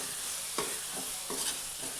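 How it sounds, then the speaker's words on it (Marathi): Green chilli and garlic thecha frying in oil in a pan, with a loud continuous sizzle and two or three brief scraping stirs, heard up close and alone. "याला चांगलं तेलात परतून घ्यायचं 1 मिनिटभर"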